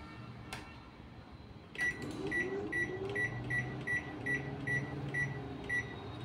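A microwave oven cooking rice and semolina dhokla starts with a clunk, then runs with a steady hum and a regular pulsing tone repeating about every half second.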